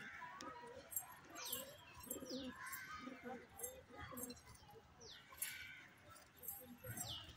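Pigeons coo on a rooftop in soft, repeated low calls, with brief chirps and rustling mixed in and a person talking nearby throughout.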